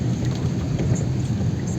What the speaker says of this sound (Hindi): बिल्कुल बहुत तेज बारिश है